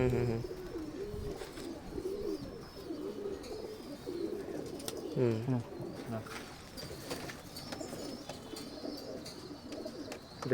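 Pigeons imported from Dubai coo in repeated soft, throaty calls close by, while people talk intermittently over the birds.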